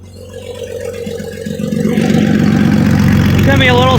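Turbocharged Isuzu 2.8 engine idling with a steady low drone, growing louder and rougher partway through as the revs rise a little, then holding a fuller steady note up close.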